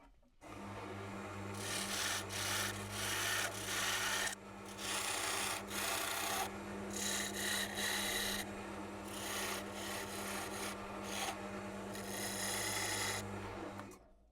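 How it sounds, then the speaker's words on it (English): Hand tool rasping a V groove into a wooden piece for a DIY yarn winder, a close, steady run of scraping strokes in bursts with short pauses, no voices. "So now I'll just put this V groove in here."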